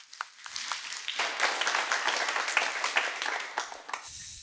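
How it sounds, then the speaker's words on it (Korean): A church congregation claps together after a Sunday Easter sermon. The applause swells quickly, holds dense and steady for about four seconds, then fades out. "하나님께 영광의 박수"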